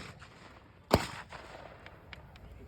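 A single sharp gunshot cracks at a military reenactment during a squad assault demonstration, followed by a few faint distant reports and a lingering outdoor echo.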